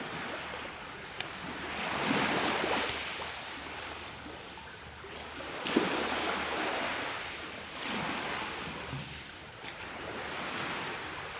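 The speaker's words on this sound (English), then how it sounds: "listened to the ocean waves for quite a while" Ocean waves wash in rhythmic swells on a Thai beach at night, soft and fairly distant, with faint wind noise between the surges.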